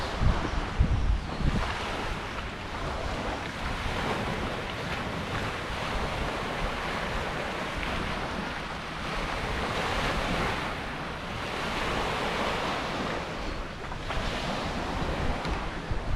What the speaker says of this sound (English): let me shut up for a minute and you can hear the waves